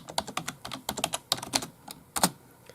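Quick, uneven clicks of typing on a computer keyboard, close and clear, about a dozen keystrokes in a short burst with brief pauses between them.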